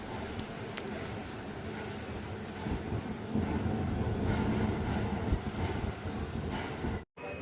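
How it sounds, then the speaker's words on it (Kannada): A MEMU train from Tumakuru to KSR Bengaluru rolls into Chikkabanavara Junction, a steady mid-distance rumble that swells slightly in the middle before a brief dropout near the end. "ಮೆಮು ಟ್ರೈನ್ ಬಂತು ನೋಡಿ, ತುಮಕೂರಿಂದ KSR ಬೆಂಗಳೂರಿಗೆ ಹೋಗೋ ಮೆಮು ಟ್ರೈನ್."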